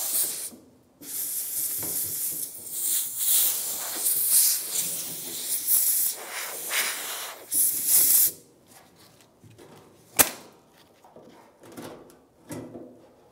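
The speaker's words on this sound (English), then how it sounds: "get the blowgun and blow some of that sand and dirt away so it doesn't drop in the tank" Compressed air from a blowgun hisses in long, loud bursts while clearing sand and dirt off a 1992-1996 Ford F-150 side fuel pump module, then stops, leaving a sharp click and some quiet handling noises.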